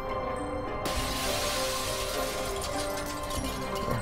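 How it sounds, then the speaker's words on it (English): Glass shattering in The Sexy Brutale, a bright crash of breaking glass bursting in early and scattering into a sustained clinking wash over steady background game music. "Some glass breaks at that point."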